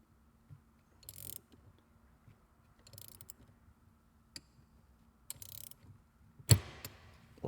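An Allen wrench works a shifter pin lock on a 2011-2014 MT-82 shifter, giving sparse, close metallic clicks and short ratcheting scrapes in separate bursts, ending with a sharper clack, in an otherwise quiet space.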